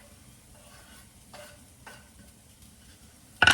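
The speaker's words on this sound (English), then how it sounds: "now you're gonna throw in your ginger and your garlic" Ginger and garlic hit a hot pan for Korean beef fried rice. After a quiet stretch with a few faint clinks, a loud, bright sizzle bursts in at the very end.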